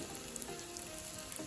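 Mustard seeds frying in vegetable oil, a faint continuous close sizzle with tiny scattered pops and crackles.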